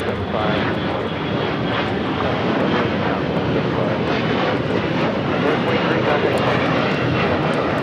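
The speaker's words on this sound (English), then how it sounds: "That's the flight taking off to Atlanta on that A321 in the thank you livery" An American Airlines A321 in thank-you livery takes off at LAX, its engines a loud, continuous broadband roar that holds steady throughout.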